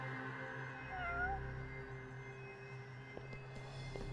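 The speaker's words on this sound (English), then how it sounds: "Is there a cat or not? Where is... There it is. Oh, yes. Cat." A cat in Judgment gives a soft, brief meow over a steady background hum of game ambience, faint and mid-distance, with no talking during the call.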